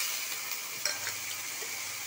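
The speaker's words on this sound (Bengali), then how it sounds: "এখন একটু জল দিয়ে দেব" Fried potatoes with onion, green chilli and ground cumin sizzle quietly in a pan after water is poured in, a faint steady hiss with a small splash and light stirring.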